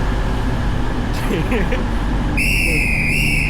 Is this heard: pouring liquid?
no